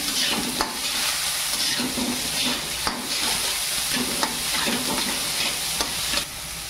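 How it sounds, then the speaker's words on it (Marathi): Chopped tomatoes and onions sizzle loudly in a pan for a sushila breakfast dish, a dense continuous frying hiss broken by regular sharp spatula scrapes and knocks against the pan, close and without talk. "टोमॅटो, कांदा मस्तपैकी शिजून द्यायचं आहे आपल्याला।"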